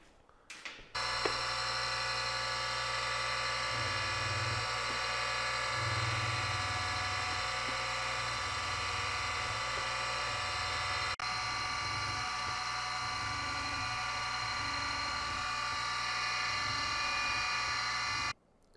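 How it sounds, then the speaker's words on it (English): A carbide center drill bores into the broken remnant of a screw, giving a steady, loud, continuous machine whine with a low rumbling hum that runs unbroken from start to finish. "So I'm going to get a carbide center drill."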